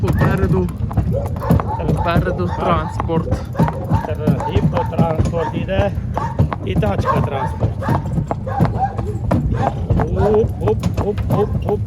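A 7-year-old draft mare's hooves clop at a steady walking pace beneath continuous nearby talking.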